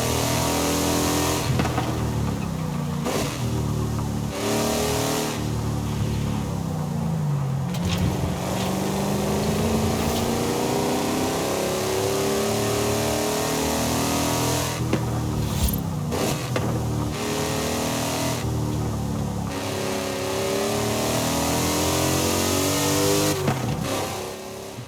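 Interior engine sound of a car in Forza Horizon 5 as it revs hard and continuously. The pitch climbs and drops through repeated accelerations and gear changes, loud and close, with no talking.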